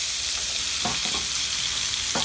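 Garlic sizzles in butter in a pan alongside an entrecôte steak, a steady broadband hiss with a few soft stirring knocks, close and fairly loud, no voices.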